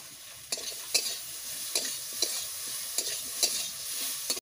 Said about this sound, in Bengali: জিরে আদা বাটাটাও দিয়ে দিচ্ছি এখন।